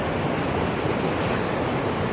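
Loud, steady rushing of water at a secluded camping spot, a constant broadband wash like waves or surf breaking close by, with no voices heard.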